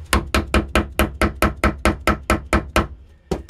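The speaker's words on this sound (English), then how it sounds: "Now when I ram this, the tip is going to go back down to that same place, but I'm ramming black powder around that tip." Black powder being rammed by hand into a spolette with a traditional rammer and mallet: about a dozen sharp, steady hammer blows in quick rhythm, close and loud, then a short pause before two more strikes.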